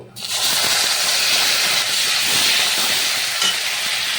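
Whole spices sizzle hard in hot mustard oil: bay leaf, cardamom, cloves and cinnamon with onion paste, for a prawn malai curry. A loud, continuous hiss starts abruptly and holds steady, with no talk.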